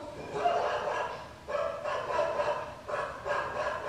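Recorded dog barking and yipping is played back to a five-month-old puppy indoors, coming in about three bursts of moderate loudness separated by brief pauses.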